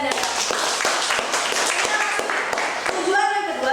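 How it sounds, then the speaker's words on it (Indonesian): A classroom bursts into applause as students clap together in a brief, busy patter for about three seconds before a voice starts talking. "Kemudian yang kedua, saya minta Kasih tepuk tangan untuk Radian"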